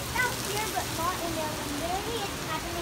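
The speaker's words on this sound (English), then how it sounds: "Touch the rain. My hand is instantly becoming wet." Steady rain pours outdoors during a thunderstorm, a dense even hiss under voices talking close by.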